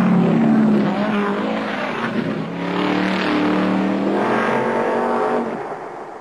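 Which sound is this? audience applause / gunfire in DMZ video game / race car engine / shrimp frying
race car engine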